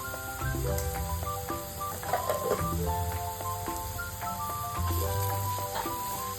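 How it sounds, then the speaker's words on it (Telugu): Ginger garlic paste fries with capsicum pieces in a pan, giving a steady close sizzle under faint kitchen clatter and tonal background noise. "ఈ అల్లం వెల్లిపాయ పేస్ట్ పచ్చివాసన పోయే వరకు వేయించుకోవాలండి"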